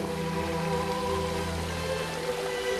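Dúrcal river running low on water in late August, a steady close rushing and gurgling flow of water over stones, continuous and even throughout.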